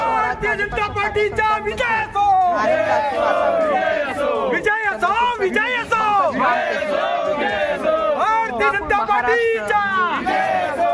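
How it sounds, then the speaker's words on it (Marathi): BJP party workers celebrate a government win in Delhi, a loud, dense crowd of cheering, shouting and chanting voices sustained throughout without a break. "कार्यकर्त्यांनी मोठ्या उत्साहात जल्लोष करत पक्षाच्या विजयाचा आनंद उत्सव साजरा केला"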